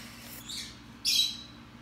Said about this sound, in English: My birds are eating right now.